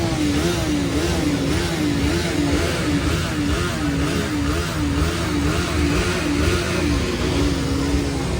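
Loud, continuous engine roar with a wavering pitch as TVS motorcycles rev and idle close by at a motorcycle road-trip gathering, steady throughout with no talking.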